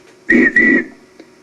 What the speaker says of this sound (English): Thomas whistled